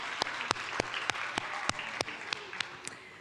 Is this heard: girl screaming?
no